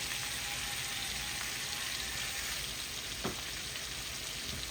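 Shrimp frying in browned butter in a pan, giving a steady, close, even sizzle with fine crackle throughout and one brief utensil tap near the end.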